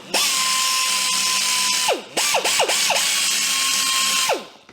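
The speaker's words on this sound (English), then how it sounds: "Little sander was the key." A small power sander buffs cheap paint on a tractor, its high steady whine held for a couple of seconds, then dipping and revving in several quick bursts before running steadily again and spinning down, close and loud with no talk.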